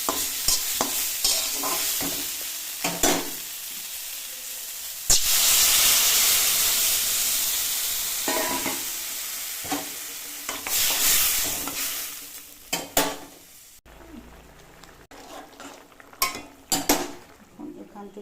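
A pot of bitter gourd and potato curry hisses and sizzles after water goes in, with loud steamy bursts that swell and fade, and a spoon scraping and stirring through quieter stretches.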